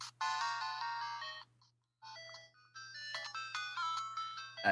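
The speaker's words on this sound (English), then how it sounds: "That's Dr. Mario. Yeah, that's my ringtone, isn't it?" Phone ringtone playing the Dr. Mario video game theme as a bright, electronic chiptune melody of rapid repeated notes, clear and fairly loud, with a brief pause partway through before the tune resumes.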